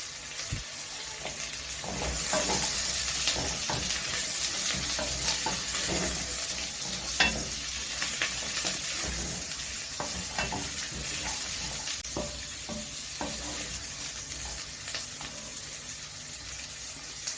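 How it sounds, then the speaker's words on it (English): Arrowroot stew stirred in a pot, a loud steady sizzle with a wet bubbling hiss throughout and occasional scrapes and knocks of the spoon. "And then I'll go ahead and stir."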